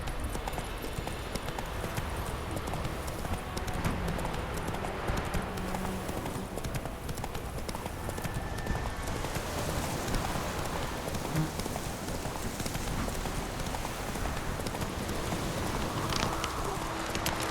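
A horse gallops through The Witcher 3 video game, rapid hoofbeats running continuously beneath a dense wash of rain-like ambient noise, fairly quiet and unbroken throughout.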